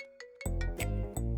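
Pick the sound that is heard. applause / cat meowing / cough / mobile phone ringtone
mobile phone ringtone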